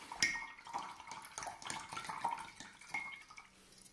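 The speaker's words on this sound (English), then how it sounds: "So we're going to thoroughly wash the brush out." Paintbrush being swished and rinsed in a small pot of water, light close splashing and sloshing with faint knocks of the brush against the container, quiet and without talk.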